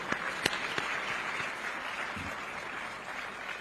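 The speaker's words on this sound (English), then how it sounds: "Can we clap for these colleagues of ours?" Audience clapping for colleagues at a private sector day event on job creation, a soft, distant, steady patter of many hands with a couple of sharper claps near the start.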